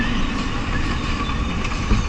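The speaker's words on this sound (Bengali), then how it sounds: "ট্রেন যাচ্ছে, দেখো সবাই মালগাড়ি যাচ্ছে।" A goods train rolls past on a line in Malda district, West Bengal, heard during a motorbike journey: a steady, fairly loud rumble and rattle of wagons that holds evenly throughout, with no talking.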